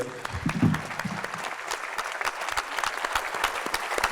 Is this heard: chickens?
no